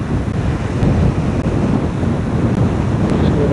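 Steady outdoor wind roars and buffets the microphone without a break, a loud continuous rush by the coast at Aultbea in Scotland, with no voices heard.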